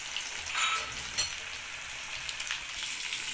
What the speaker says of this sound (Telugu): 2 కూడా వేసుకొని ఇలా మనము ఫ్రై చేసుకోవాలి.